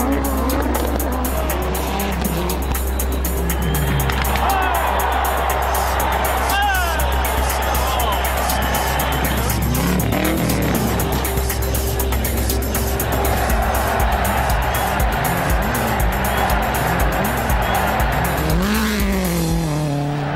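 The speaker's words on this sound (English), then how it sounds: "Rally Argentina began with a unique spectacle, a super special stage featuring 3 cars together." Rally cars from the 1998 World Rally Championship roar through a Rally Argentina super special stage near Córdoba, three running together, with loud continuous engine howl, tire squeal and passing surges, under a commentator's voice.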